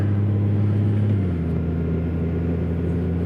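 A Kawasaki Z H2 motorcycle being ridden on a 43-degree day produces a steady, close engine drone with a deep hum. The pitch settles slightly lower partway through, with wind rush underneath and no voices.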